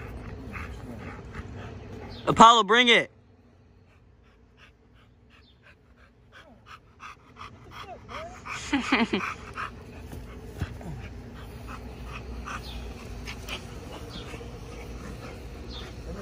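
A dog named Apollo, out playing fetch, lets out a short burst of high whining whimpers up close, then falls quiet while a voice and soft outdoor background noise carry on.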